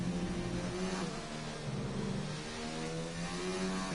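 McLaren racing car engine heard onboard in an F2 race on the Belgium circuit of a PS4 racing game, a steady high-revving drone with rising and falling gear pitch, continuous and close.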